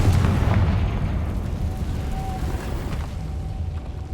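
A Confringo fire spell going off in the Hogwarts Legacy video game, a loud sustained booming blast with deep rumbling low end that slowly fades over several seconds.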